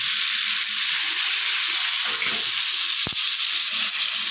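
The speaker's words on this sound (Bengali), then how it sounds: "এখন আমি জল দিয়ে দেবো।" Spiced jackfruit curry sizzles in a pan as water is added. A loud, steady sizzle carries throughout, with a single sharp knock near the end.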